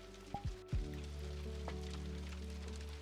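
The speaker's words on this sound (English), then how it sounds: "the rain sound might be a little loud" Steady rain ambience in a VRChat world, a soft continuous patter under light background music, with a couple of brief tonal blips near the start.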